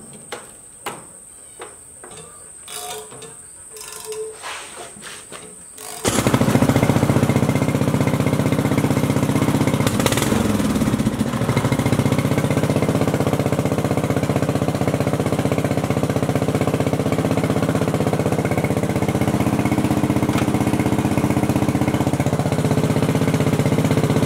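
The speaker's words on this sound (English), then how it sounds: "Actually forgot the air compressor is in this barn" An air compressor in a barn kicks on abruptly after a few seconds of quiet with faint crickets and clicks, then runs loud and steady with a droning mechanical hum and rattle to the end.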